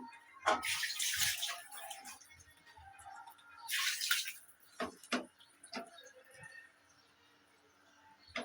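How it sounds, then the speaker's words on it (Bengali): Water poured into a cooking pot of curry with vegetable stalks, potatoes, turmeric and chili powder: two close, splashy pours about three seconds apart, with a few light clinks and drips between them. "এখন দিয়ে দেবো পানি।"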